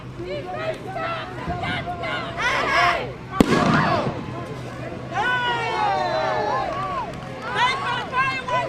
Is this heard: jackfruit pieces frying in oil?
no